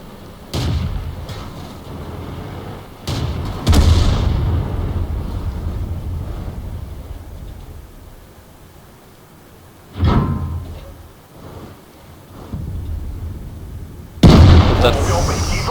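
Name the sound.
tank cannon shots in the video game World of Tanks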